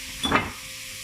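Coconut sweet mixture with butter stirred in a pan, giving one brief swell of soft sizzling, scraping hiss that fades back to quiet.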